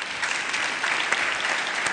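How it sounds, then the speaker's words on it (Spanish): An audience at a Tijuana panel on Mexicans in the U.S. applauds the panelists with a short burst of many hands clapping together, steady and fairly loud throughout. "Un aplauso más,"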